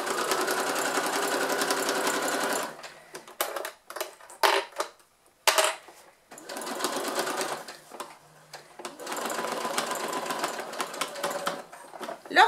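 Sewing machine stitching a double-sided fabric pouch, with long steady bursts of rapid mechanical whirring broken by short clicks and pauses as the presser foot is lowered and the fabric repositioned.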